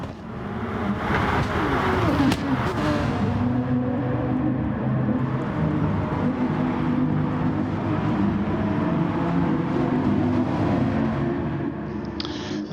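A big pack of racing cars in the video game GT Sport drones with layered engine noise that holds steady and loud throughout, with a brief sharper accent near the start.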